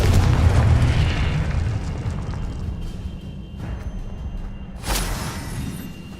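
Loud explosive blast from a Confringo fire spell in the game Hogwarts Legacy, a heavy boom at the start rumbling and fading, with a second sharper burst near the end.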